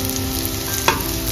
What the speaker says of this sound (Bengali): এটা বড়াগুলো বেশ লাল লাল করে ভাজা হয়ে গেছে